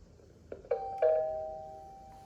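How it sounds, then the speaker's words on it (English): A smart doorbell with a camera and alarm chimes with three bright electronic tones in quick succession, the last note ringing out and slowly fading in a quiet room. "this is the doorbell, which has a camera and alarm"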